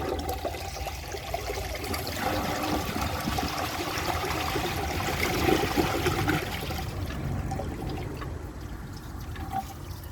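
A 2003 Mancesa Acuacer toilet with a fully glazed trapway flushes a washcloth down, with steady rushing and pouring water swelling in the middle and tapering to a trickling refill near the end.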